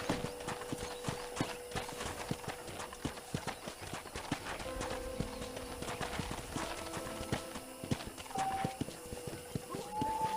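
Steady clip-clop of horse hooves trotting at a brisk, even rhythm on a ranch in the video game Red Dead Redemption, close and clear, with faint synthetic game ambience behind.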